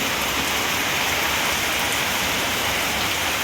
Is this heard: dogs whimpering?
no